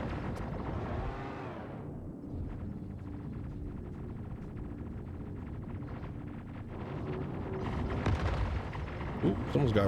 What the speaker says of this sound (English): Ooh, someone's got rockets.